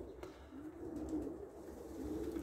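Horemans pigeons in a loft cage coo softly nearby, a low continuous throaty warble rising and falling, with faint rustling in the background.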